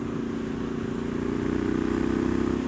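A 2018 Triumph Street Scrambler motorcycle ridden on a summer road, its engine a steady, throbbing drone that rises slightly in the second half, loud and close with wind noise and no voices.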